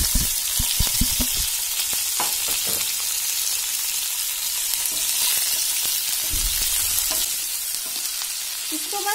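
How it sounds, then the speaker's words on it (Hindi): Vegetables sauté in a hot pan with cumin for an Indian macaroni dish, a steady close sizzle with frequent scraping stirs and clinks of a spoon, no talking. "इसको बस हमें सौते करना है।"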